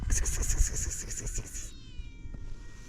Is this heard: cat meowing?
yes